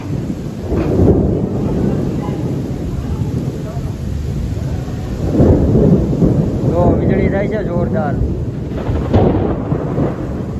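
Heavy rain pours down on a construction site in a continuous loud roar, with deep thunder rolling through it. A voice speaks briefly over the storm.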